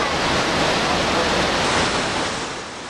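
Rain falls at Joren Falls in Izu while the waterfall pours into its plunge pool. A dense, steady roar of rushing water fills everything for three seconds and then eases slightly toward the end.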